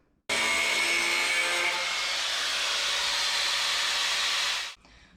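Powered cutting tool slicing through the hood of a 2007-18 Jeep JK for a snorkel install: a loud, steady, high-pitched grinding whine held for about four seconds before stopping abruptly, with no talk.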